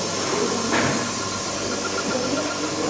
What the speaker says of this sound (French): Il faut que j'envoie un peu de vapeur sur la BP là.